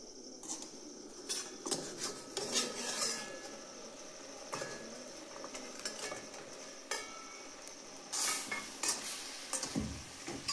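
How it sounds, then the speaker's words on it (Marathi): A spatula stirs and turns vegetables cooking in a pan, scraping and clinking against the metal over a faint sizzle, in irregular close strokes with a louder flurry near the end. "तर भाजी उचकून हलवून घेते"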